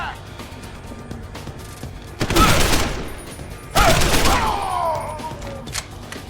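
Gunfire in the video game Deus Ex: Human Revolution, two loud bursts of rapid shots a second or so apart with ringing tails, over a busy combat background with occasional voices.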